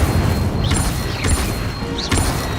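Incendio fire spell cast repeatedly in Hogwarts Legacy, heard as recurring whooshing bursts with bright rising swishes over a steady low rumbling game backdrop, fairly loud and close.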